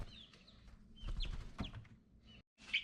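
Chickens cluck close by with a few high peeping chirps from two-week-old chicks, amid rustling and light handling noises, ending in a sharp squawk.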